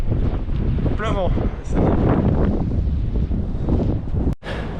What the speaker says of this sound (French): Il y a du vent à 90 km/h, sans les rafales